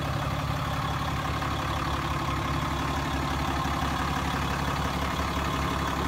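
A 2016 Ram 3500 Tradesman crew cab with the 6.7 Cummins turbo diesel idles with a steady, even rumble and a fine rapid ticking texture. The sound holds at the same level throughout with no revving.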